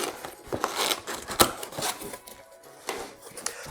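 A cardboard box holding a NAS unit is opened, with close rustling, scraping and snipping sounds in uneven bursts, moderately loud, with no one speaking.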